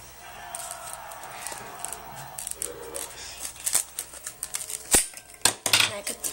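Scissors snip through paper for a paper AK-47 craft, giving a string of sharp, close clicks and cuts that grow denser toward the end, with faint talk underneath.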